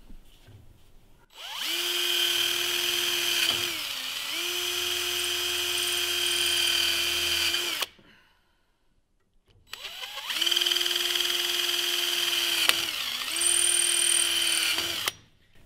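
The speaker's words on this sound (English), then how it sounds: "And then you're going to want to drill all the way through the pipe on each one of the marks." A power drill bores through a metal pipe in two long runs of about six seconds each, close and loud, its whine dipping under load mid-run before spinning down, with a short silent pause between runs.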